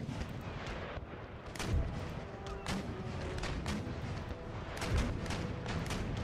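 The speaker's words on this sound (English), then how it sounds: "Make sure all you guys are firing round shot." Naval cannon fire from frigates in the Empire Total War game, heavy round-shot broadsides booming in a series of irregular blasts over a constant battle rumble, with no talk.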